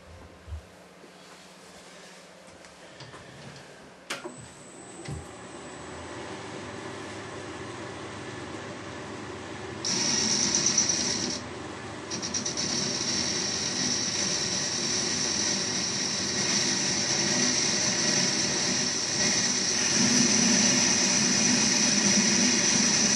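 A metal lathe cutting a part up to a shoulder, a steady motor hum that rises into a sustained, bright whining cut, with a brief pause before the cut continues evenly.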